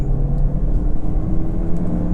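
A Ford Focus 1.6 car accelerating while driving, its engine giving a steady, loud low rumble and whir heard from inside the cabin, with no talk over it.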